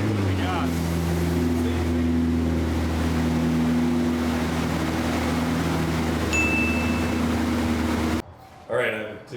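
A home-made P1 car engine roars continuously on a dyno pull, a loud sustained droning rumble with shifting pitch that stops abruptly near the end.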